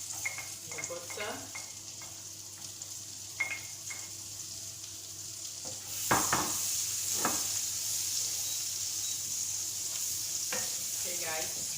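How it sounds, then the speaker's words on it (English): Diced onion sizzles in melted butter in a pan, a steady frying hiss under intermittent stirring and scraping clatter, the sizzle jumping louder partway through as the onion goes in. "Now we're going to put the diced onion"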